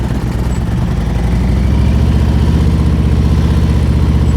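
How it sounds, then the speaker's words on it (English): A motorcycle engine runs loud and close during slow-speed riding practice, a steady idling chug with a rough, shaking throb that holds throughout without pause. "The whole engine's shaking."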